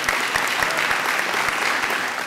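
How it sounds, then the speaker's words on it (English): An audience at a press conference claps steadily in a sustained, even round of applause, with no voices rising above it. "Won't you give another big round of applause for all of those who've spoken today"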